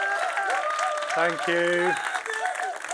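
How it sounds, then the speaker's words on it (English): Audience applause welcomes a speaker onto the stage at the All Day Hey! web conference, a steady wash of clapping running beneath a voice talking throughout. "Give him a huge round of applause, please."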